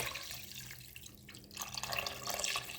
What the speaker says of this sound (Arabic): صافي ملي غادي نحط دابا الماء، غادي نحط الماء عليهم.